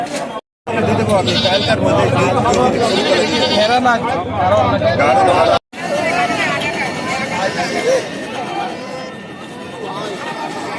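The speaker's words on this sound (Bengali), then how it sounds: "ছাগল ক্যাঙ্গারু জাত।" Kangaroo-breed goats and sheep bleating repeatedly at a busy village livestock market, loud and close over a constant crowd babble and chatter, with people talking nearby.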